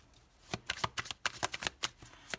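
Tarot cards are shuffled, slid and laid down in quick, uneven bursts of crisp papery flicks and soft slaps, close by and alone.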